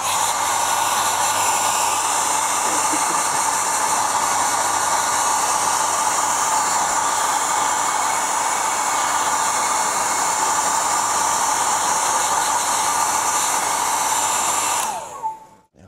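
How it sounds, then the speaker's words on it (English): A hairdryer blows a loud, steady roar close by while drying a layer of paint, running nonstop before switching off at the end. "I'll just dry that off with a hairdryer and then pass it around."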